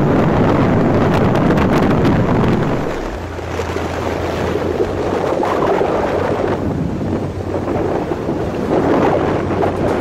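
Strong wind on the Dutch coast buffets the microphone during a cycling trip, a loud, continuous rumbling roar with gusty surges and no speech.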